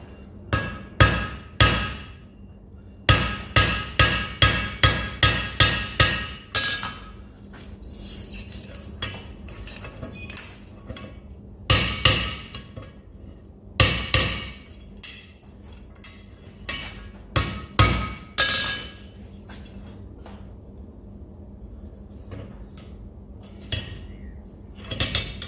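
A hammer strikes a rivet to tighten a pair of freshly forged blacksmith tongs, sharp ringing metallic blows in quick bursts and separate clusters, loud and close, with brief pauses between volleys.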